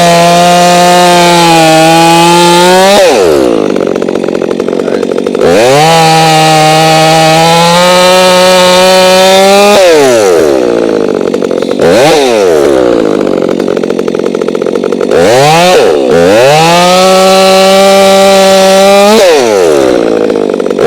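A Stihl MS362C chainsaw with a 28-inch bar cuts through oak, its loud, close engine revving high and bogging into the wood in repeated long passes, dropping briefly to idle between cuts.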